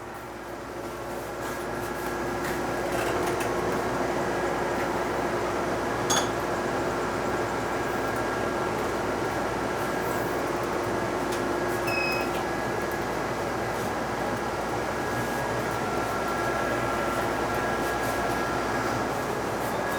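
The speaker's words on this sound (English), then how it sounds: "Come on over here and kind of see the machine engraving." An engraving machine cuts a logo into a barrel in a workshop, giving a loud, steady mechanical hum and drone with a faint whine running through, rising in the first seconds and then holding constant.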